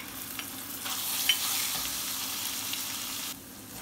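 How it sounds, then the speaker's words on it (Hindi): Ginger garlic paste frying with onions and green chillies in a pan, a steady soft sizzle that swells partway through and drops back near the end, with faint stirring, no voices. "प्याज जब हल्का हल्का पिंक होना स्टार्ट हो जाएगा हम इसमें डाल देंगे अदरक लहसुन का पेस्ट।"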